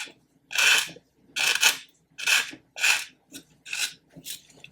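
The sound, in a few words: coarse zebra sander sanding plastic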